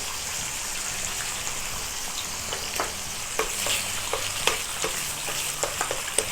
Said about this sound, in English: Add that bacon to the pan.